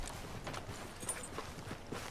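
A horse walks in Red Dead Redemption 2, its hooves clip-clopping in a steady, fairly quiet rhythm over a soft background.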